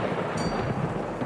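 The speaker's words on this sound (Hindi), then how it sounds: "बारिश और ज़्यादा तेज हो गई।" Heavy storm rain with thunder, a dense continuous roar of downpour filling the short stretch, loud and close, with no speech.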